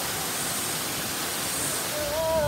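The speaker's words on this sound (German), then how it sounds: "Mal schön unter die Dusche." Water from a shower runs as a continuous broadband rush. The sound stays steady and fairly loud from start to finish, and nobody speaks over it.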